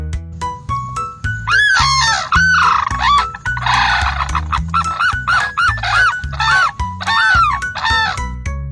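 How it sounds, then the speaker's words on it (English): Sandhill cranes give loud, rolling, bugling calls in rapid repeated bursts, several in close succession over a low steady background hum. "The sandhill crane lives in wetlands, grasslands, and fields. This is the sound they make when they communicate."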